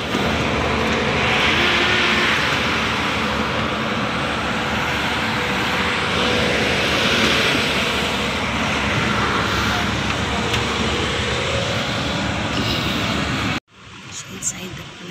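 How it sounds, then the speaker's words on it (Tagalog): An airplane at Sharjah Airport gives off a steady, loud engine roar that fills the air without letup for most of the stretch, then cuts off abruptly near the end, leaving quieter background sound. "Ayan, yung eroplano."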